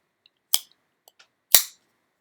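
A Benchmade Bugout folding knife is flicked open twice with the thumb stud, each opening ending in a sharp, close snap as the blade locks, with faint small clicks between them and silence around.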